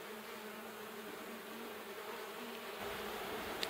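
Honey bees buzzing from an open hive frame, a dense continuous drone filling the air, fairly close and steady throughout with no talk.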